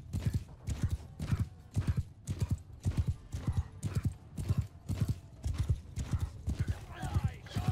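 Horses gallop in the video game Mount & Blade II: Bannerlord, with steady rhythmic clip-clop hoofbeats repeating about twice a second, loud and close, with an occasional whinny and faint voices underneath.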